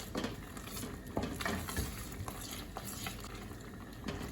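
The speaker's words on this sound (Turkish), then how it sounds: "sürekli karıştırarak kıvam alana kadar pişirelim" Apple marmalade cooking in a pot while being stirred continuously, with repeated scraping strokes at a steady rhythm over a soft bubbling sizzle, close and fairly quiet.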